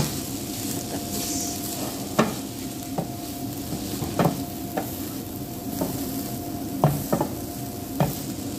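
Mung beans fry and sizzle in a pan while being stirred, with a steady hiss under irregular scrapes and light clinks of a utensil against the metal, heard close up with no voices.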